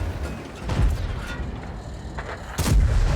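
Two heavy booming shots from an SU-130PM tank destroyer in World of Tanks, the louder one near the end, with mechanical clanks and rumbling battle noise between them.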